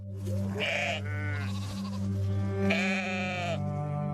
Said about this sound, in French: Lionel et Lorna possèdent une exploitation de 160 hectares avec 800 brebis.